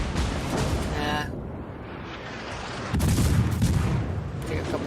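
Warship naval guns in World of Warships fire in loud heavy booms, with one thunderous salvo rolling out near the middle over a constant background rumble of engines and sea.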